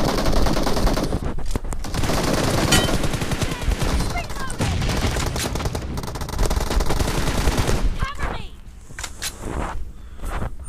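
Battlegrounds Mobile India gunfire rattles in loud, rapid automatic bursts almost without pause, fading briefly near the end, with someone talking over it.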